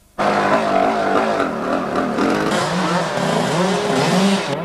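Trial motorcycle at the 1993 Welsh event, ridden by Phil Bowen at number 53, passing close by with a loud, continuous engine drone whose pitch wavers as the throttle changes.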